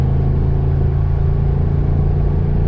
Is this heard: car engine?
yes